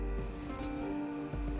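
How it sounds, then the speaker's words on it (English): Steady rain falls on surfaces outdoors, a soft continuous patter sitting beneath a sustained musical backdrop, with no voices. "It had begun to rain."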